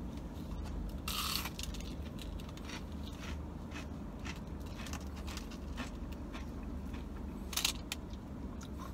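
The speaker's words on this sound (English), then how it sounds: "Let me try an onion ring" Someone bites into and chews a crunchy breaded onion ring, close and faint, with a few sharp crunches standing out over a steady low background and no talking.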